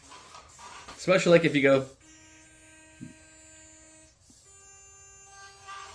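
Associated HR28 RC car creeping slowly, giving off a steady thin electric whine with faint overtones under a short burst of speech, then running on alone at low volume.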